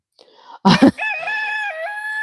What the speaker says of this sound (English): My roosters are loud.